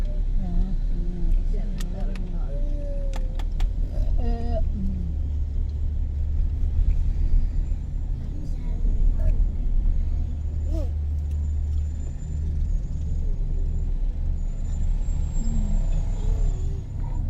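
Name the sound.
traffic on a toll road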